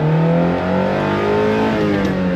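A 1984 Alfa Romeo Giulietta 2.0 engine pulls hard and loud from inside the car, its rising harmonics climbing steadily as it revs high, with a brief dip around a gear change before climbing again.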